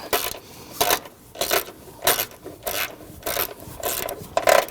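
Ratchet wrench clicking in repeated short bursts while tightening fasteners on the plastic coolant expansion tank of a 2010-2019 Ford Taurus 3.5L V6, the raspy strokes close and fairly loud with brief pauses between, no talking.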